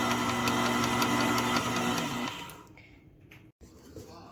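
Electric hand mixer whirs loudly through buttery vanilla cookie dough, a steady motor drone that cuts off partway, leaving a quieter room with a brief clunk.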